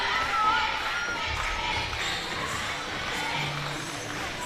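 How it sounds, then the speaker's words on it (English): A rowdy crowd in a high school gym during a girls' volleyball playoff against the Waiakea Warriors: steady murmur and shouting with scattered cheers and thumps, children's voices rising in and out, and people talking throughout. "I'm seeing hearing a lot of rowdiness from the crowds right now"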